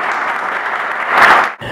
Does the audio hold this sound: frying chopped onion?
no